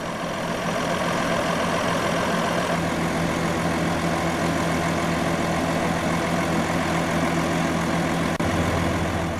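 The Packard PX8 330-horsepower diesel engine of a 2011 Kenworth T370 truck idles steadily with a deep, constant low rumble and mechanical clatter, loud and close throughout, with no talking.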